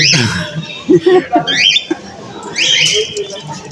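Doves and other caged birds at a bird fair in Eure-et-Loir give a run of close, loud squawks and chirps, some sweeping upward, over a busy hall background.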